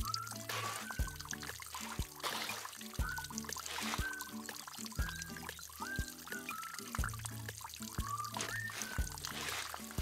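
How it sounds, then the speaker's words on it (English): Cartoon rain pours and splashes steadily over a rhythmic musical backing with a beat about once per second. "It's raining. I can't believe it. Water! Lots of water!"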